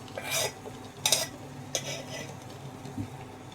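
Chicken biryani being gently stirred in a pot, with a few soft scrapes and clinks of a spoon against metal spread over a few seconds, fairly quiet and close, with no talking.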